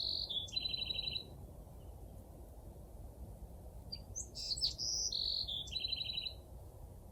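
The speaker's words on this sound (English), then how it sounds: "I'm loving that bird." Outdoors, a small long-tailed bird gives quick bursts of high, trilling chirps, one at the start and a more varied run toward the end, over a soft steady background hiss with no voices.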